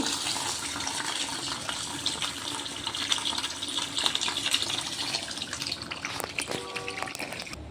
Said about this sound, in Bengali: আমি চাউলটাকে ভালো করে পরিষ্কার করে ধুয়ে এখানে আমি আধ ঘন্টা ভিজিয়ে রাখবো